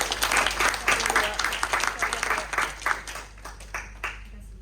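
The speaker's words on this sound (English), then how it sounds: "Please give him a round of applause." An audience at a facility management sustainability event claps for an award recipient, a burst of fairly close applause that thins out toward the end, with some voices mixed in.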